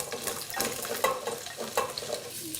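Parsnips and celery root frying in a pan and stirred, with soft scraping strokes over a gentle, steady sizzle heard up close and alone.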